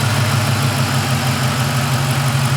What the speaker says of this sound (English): let it do the high idle at 800 RPM again on its own